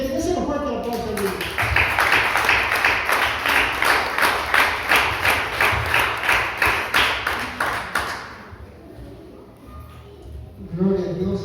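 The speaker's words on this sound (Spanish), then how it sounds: "Déselo fuerte el aplauso a mí" Church congregation applauding loudly during a Spanish-language sermon on prayer, a dense sustained round of clapping that tapers off after about eight seconds, with the preacher's voice returning briefly at the end.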